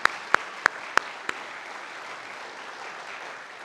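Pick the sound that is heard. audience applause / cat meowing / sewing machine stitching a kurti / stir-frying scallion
audience applause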